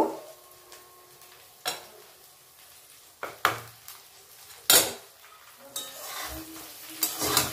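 A spoon stirs and scrapes a pan of small-fish curry (chuno mach chachori) with coriander leaves, giving several sharp metallic knocks and clinks between softer scraping and a faint sizzle.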